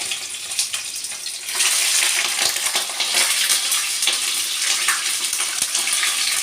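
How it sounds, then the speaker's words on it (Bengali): Chicken pieces lowered into hot oil with whole garam masala, giving a loud, steady crackling sizzle that jumps up sharply after a softer start and continues close up with spitting pops, no talk. "এবারে আমি চিকেনটা আস্তে আস্তে দিয়ে দেব তেলের মধ্যে।"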